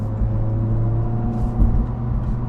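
A Honda Civic Si engine holding a steady hum with a slight rev hang during a manual gear shift, heard from inside the cabin as a continuous low drone with a brief rise near the end.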